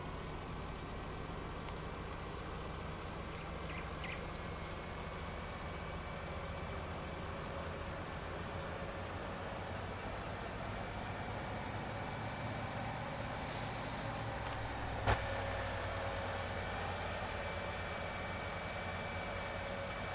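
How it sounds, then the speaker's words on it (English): A truck engine in Farming Simulator 19, heading out to sell cotton, drones as a faint, steady low rumble, with a brief air-brake hiss and a sharp click near the end. "Now we can grab our truck"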